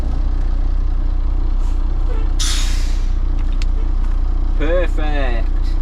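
Air hisses sharply out of the brakes of an idling Volvo F7 truck as the handbrake is released, one loud burst over a constant deep engine rumble, with someone speaking shortly afterward.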